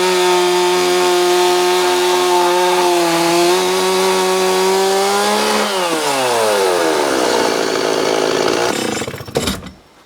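A chainsaw guided sideways in a jig cuts through a log at an Alaska off-grid cabin build. The engine roars steadily and close, its pitch drops as the chain bogs into the wood, then it cuts off near the end.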